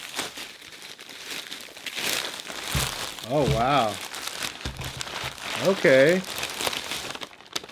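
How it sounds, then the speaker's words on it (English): Original wrapping paper comes off a pair of fake Jordan 4 shoes with close, steady crinkling and rustling, while a person reacts with brief exclamations over it. "We got the original wrapping paper of the shoes,"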